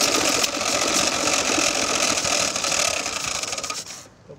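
Engine of a 1901 Royal Enfield Quadricycle during a bump start: a loud, steady buzzing, rattling run close by that drops away abruptly near the end, with no talk.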